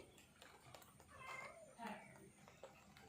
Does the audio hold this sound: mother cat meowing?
yes